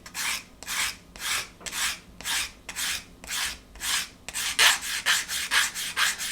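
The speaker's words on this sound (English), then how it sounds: "an emery board is good for that, but not a sponge. And we're just going to take the laser scorch away." An emery board rubs the laser scorch off a laser-cut wooden part for a Vanguard Models HM Sherbourne ship model. About a dozen even, close rasping strokes follow one another in a steady back-and-forth rhythm.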